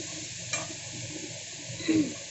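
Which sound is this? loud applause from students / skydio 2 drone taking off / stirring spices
stirring spices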